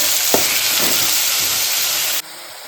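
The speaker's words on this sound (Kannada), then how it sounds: "ಇದಕ್ಕೆ ಇವಾಗ ಟೊಮೆಟೊನ ಹಾಕೊತ ಇದ್ದೀನಿ ನೀಟಾಗಿ ಫ್ರೈ ಮಾಡ್ಕೋಬೇಕು" Tomatoes frying with partly cooked onions in a pan give a loud, dense sizzle with a few stirring scrapes, cutting off sharply near the end to a quieter hum.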